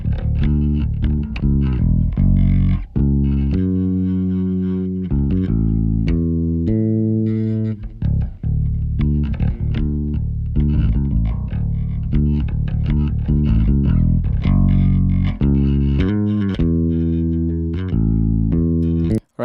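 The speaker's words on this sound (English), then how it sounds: "I'm gonna mute the bass automation so that you can hear how it sounds like had I not done the volume automation." Bass track in a music mix with its volume automation muted, so the level stays constant; loud, distorted, sustained bass notes changing pitch in a steady rhythm, playing continuously without talk.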